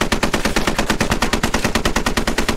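A mounted machine gun fires in a multiplayer military video game, a loud unbroken burst of rapid, evenly spaced shots, roughly ten per second, for the whole stretch.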